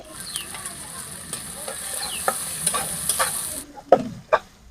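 Steady sizzling of a spice paste frying in a hot pan with a few prawns, a spoon stirring and scraping through it; the sizzle cuts off near the end, leaving a few scrapes.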